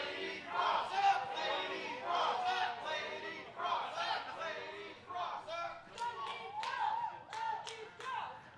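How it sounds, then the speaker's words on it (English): Wrestling audience at a women's independent match chanting in rhythmic bursts with claps, crowd noise swelling and fading, then sharp slaps or thuds toward the end. "Lady Frost, not a fan of the Dani Moe chants"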